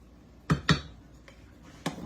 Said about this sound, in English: She just pushed the dumpling down into the juice.